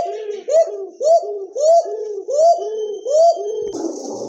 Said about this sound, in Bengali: এক জোড়া মুখী কবুতর, টকটকে লাল